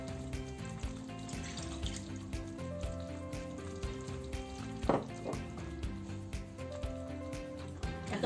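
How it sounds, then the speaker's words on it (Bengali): Milk poured into a pan of frying hilsa korma masala, giving a steady, fairly quiet sizzle and bubbling that runs throughout with a soft splash partway through. "এখন আমি দিয়ে দিচ্ছি দুধ।"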